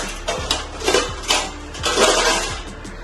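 A pot of vegetables being covered with its lid for steaming, giving a few light metallic clinks and scrapes of lid against pot, close and fairly loud with no talking.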